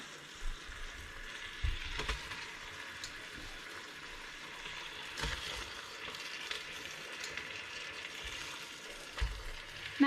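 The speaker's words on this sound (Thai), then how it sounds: "จากนั้นใส่ ขาหมูหรือว่าสามชั้นลงไปเลยค่ะ" Pork leg goes into a hot pot for Thai braised palo and sizzles in a soft, steady frying hiss. Occasional light clinks and stirring knocks sound close by.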